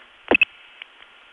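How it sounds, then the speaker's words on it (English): Two 2600 Hz telephone trunk links going on hook in a 1980s long-distance phone network: a steady tone cut by two sharp clicks close together, then two fainter clicks. "Now that is the sound of two 2600 links going on hook."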